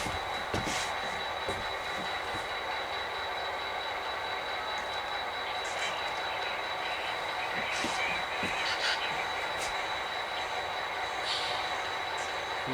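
A long freight train slowly backing up to uncouple a boxcar, a steady metallic rumble with faint wheel squeals and clanks throughout, at a constant, moderate level.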